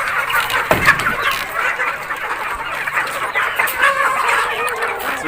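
Native chickens kept on a small farm cluck and call loudly and close by, with overlapping bird chatter and scattered short squawks throughout, and no one talking.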